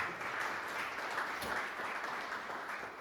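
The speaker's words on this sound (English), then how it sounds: "We give them a round of applause too" An audience at a Village of Shelby certification ceremony gives a steady, even round of applause, many hands clapping together at moderate volume with no talk over it.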